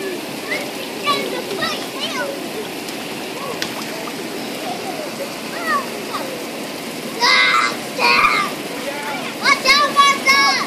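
Water splashing and splattering at a kids' splash party, a running watery wash with intermittent bursts of splashing as children's voices chatter and call out over it.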